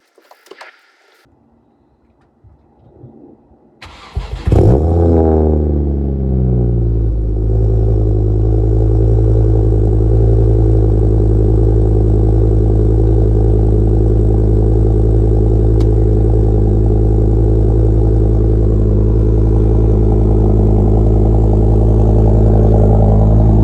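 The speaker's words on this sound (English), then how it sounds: "do a cold start" Ford Focus ST225 engine cold-starting after a few quiet seconds, a brief whir of the starter then a loud, steady idle with a deep harmonic drone and slight rasp that holds continuously, close and alone.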